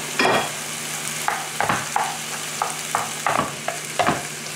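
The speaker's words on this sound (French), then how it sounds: "je laisse revenir l'ensemble jusqu'à ce que la viande hachée soit bien cuite" Minced meat with parsley and coriander frying in a pan, a steady sizzle broken by repeated scraping stir strokes, close and alone with no voices.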